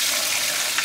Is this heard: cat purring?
no